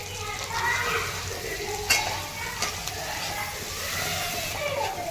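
Onion with ginger-garlic paste and green chili sautéing in butter in a pan for paneer bhurji, a steady close sizzle with frequent utensil stirring and scraping against the pan.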